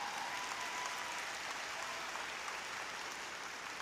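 A high school graduation commencement crowd applauds in a large venue, producing a steady, dense wash of clapping that stays even and fairly soft throughout.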